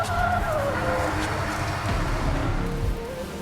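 A car engine roars steadily while tires squeal and skid in long wavering whines, the drifting vehicle loud and close throughout.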